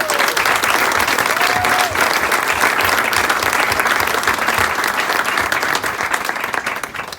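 Sustained applause from a crowd at the grand opening of a tennis and wellness center, a dense steady clatter of clapping lasting throughout, with a brief whistle early on.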